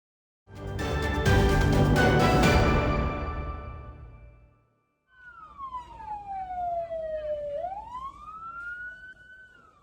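A loud wailing fire engine siren, preceded by a burst of broadband noise, then a rising and falling tone sweeping steadily, fairly close.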